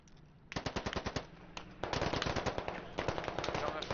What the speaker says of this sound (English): Heads up, they're shooting at us at our fob here.